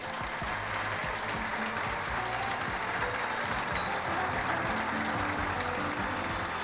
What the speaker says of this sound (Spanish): Acompañamos este momento con un aplauso,